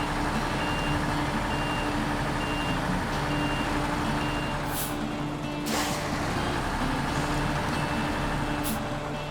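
A damaged, hard-to-steer truck in SnowRunner rumbles steadily while its reversing alarm beeps in an even, repeating rhythm. Short hissing air-brake bursts break in twice.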